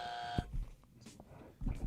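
A short electronic buzzer marks the end of a timed turn in a debate-style contest: a brief steady tone at the start, followed by quiet room noise and faint movement.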